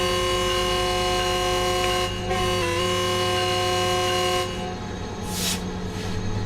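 A train heard from trackside in the Train Sim World 4 simulator, giving a steady, loud engine drone with sustained tonal hum, a brief dip midway and a short hissing burst near the end.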